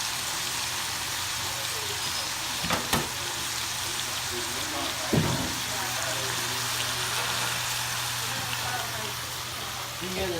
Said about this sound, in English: You hear the sizzle, all that fat's going.